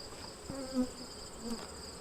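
Honey bees buzzing around an open hive during a mite treatment, a soft steady drone with occasional closer passes, fairly faint and without talk.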